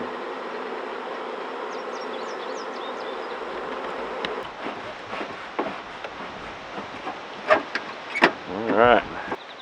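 A swarm of honey bees over a homestead, a steady faint droning hum at first, then closer bees buzzing past in brief louder swells near the end.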